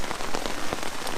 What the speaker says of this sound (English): the rain sounds worse when it's banging on the tarp